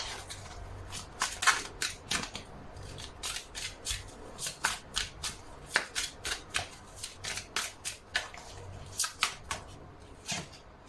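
Tarot cards being shuffled by hand up close, a long series of quick papery riffles and slaps in an uneven rhythm, with no voices.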